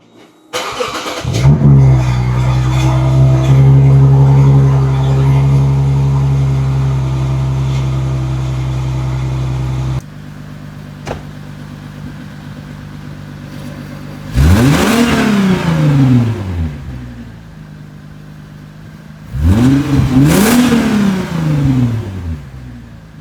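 A Lexus V6 fitted with exhaust silencers cold-starts with a sharp crank and catch, then holds a loud, steady high idle before settling lower. Two short, hard revs follow, each rising and falling away, with no one talking.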